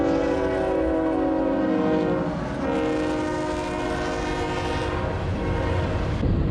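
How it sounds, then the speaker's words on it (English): A train rolls through a small Alabama town, its horn blaring in long sustained tones over the rumble and clatter of rail cars, loud and close, with no talk. "you got the train going through"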